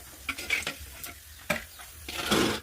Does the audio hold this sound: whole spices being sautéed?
yes